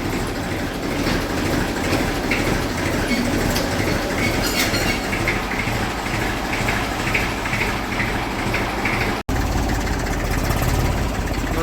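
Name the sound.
tractor engine reversing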